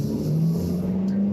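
A 2024 Nissan Sentra SR with a CVT accelerates hard from a brake-torqued launch, giving a steady, droning engine note heard close and alone.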